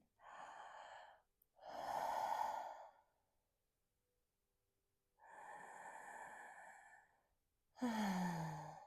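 Slow, deep breaths during a yoga stretch, close and clear against silence: long airy exhales and inhales in an unhurried rhythm, with the last breath ending in a voiced sigh.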